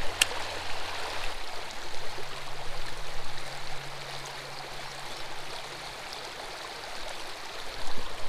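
Creek water flowing steadily during a fishing outing with a topwater popper, a continuous soft rushing and babbling close by, with faint splashes and no talking.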